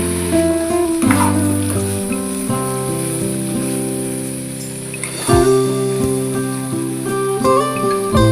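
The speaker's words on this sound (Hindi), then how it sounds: "तो बस यहाँ पर लगा दिया है मैंने सब्ज़ी को तड़का।" Continuous hiss of vegetables sizzling in hot oil while being tempered with spices, layered with loud steady music throughout.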